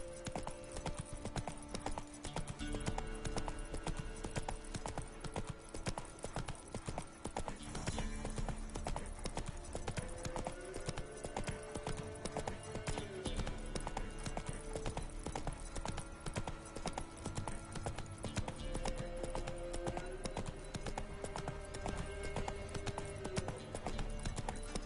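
Horse hooves galloping in The Witcher 3, a steady, fast clip-clop that never lets up, layered over game music with sustained tones. No one speaks.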